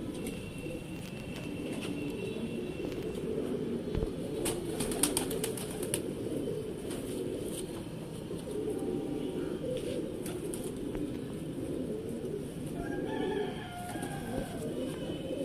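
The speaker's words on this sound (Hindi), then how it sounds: "दोस्तों सियालकोटी छत वाले कबूतर" Steady soft cooing of Sialkoti rooftop pigeons with bird calls over a constant background hum, continuous throughout, a few sharper clicks in the middle.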